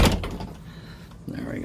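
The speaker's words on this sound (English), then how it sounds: "I get the door for you." A boat cabin door opens with a short knock and sliding scrape up close, followed by a low rumbling background as it swings open.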